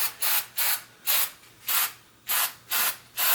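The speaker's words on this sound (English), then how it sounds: "Let me just spray this" Aerosol spray paint can coating an engine valve cover with wrinkle paint, seven short hissing bursts in an even rhythm, loud and close.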